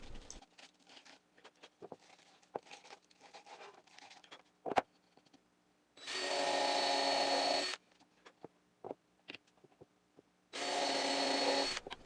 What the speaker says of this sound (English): Then I drilled out the center with a Forstner bit